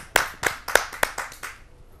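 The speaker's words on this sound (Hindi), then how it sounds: "आइए जोरदार तालियों से स्वागत करते हैं।" An audience at a kavi sammelan claps to welcome a poet, a short burst of about seven distinct, fairly close claps that thins out and fades within two seconds.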